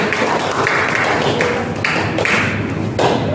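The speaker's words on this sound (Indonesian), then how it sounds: "Aduh, yang kanan saya silakan tepuk tangan." Audience applause at a conducting workshop, loud, dense clapping from a nearby crowd that holds steady for a few seconds, with occasional heavier thumps in the patter.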